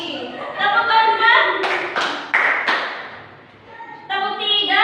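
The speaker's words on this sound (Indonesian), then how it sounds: "Coba tepuk satu, tepuk dua, tepuk tiga," Classroom clapping in a counted rhythm led by a teacher, a few sharp group claps standing out between stretches of voiced speech, close and loud.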